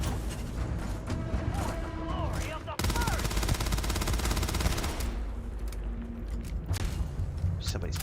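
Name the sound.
sniper gunfire in Starfield video game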